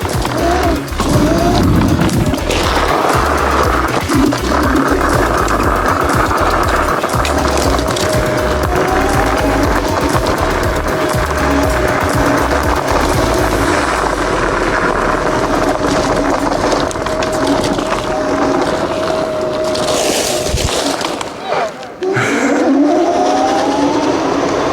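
Kaabo Wolf Warrior King electric scooter ridden along a woodland trail, a steady loud rolling rumble of tires and motor with rattles and bumps over rough ground, continuous throughout with a brief dip near the end.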